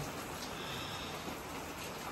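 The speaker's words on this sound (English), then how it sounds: "it's pouring rain" Steady, dense pouring rain hisses evenly and continuously throughout on a New Year's Eve night outside an In-N-Out Burger, with no voices.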